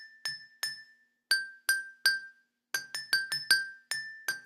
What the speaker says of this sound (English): Malleting on high bells sounds like this.